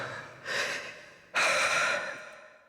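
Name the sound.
heavy breathing from a video game (Honkai: Star Rail)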